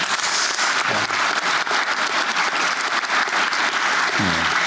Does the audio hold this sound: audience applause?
yes